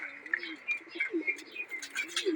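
Pigeons cooing in a loft, close, soft repeated throaty coos overlapping with light chirps, no talking.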